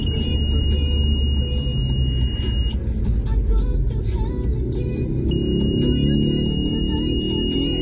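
A front parking sensor in a Daihatsu Terios sounds a steady high electronic tone, cutting out and then resuming, over the low rumble of the car in traffic on a road with becak pedicabs nearby.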